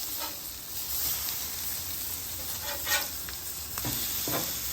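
Blackened catfish fillets frying on a hot Blackstone griddle, a steady close sizzle and hiss with a few brief scraping stirs, no voices.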